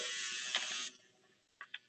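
An electric toothbrush motor in a small drawing robot buzzes loudly up close for under a second, then cuts out, followed by a few faint clicks and brief rattles.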